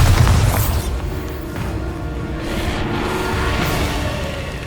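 Bombarda blasting spell in the Hogwarts Legacy video game, a loud booming burst at the start that rolls into a sustained rumbling, crackling wash of debris and noise continuing through to the end.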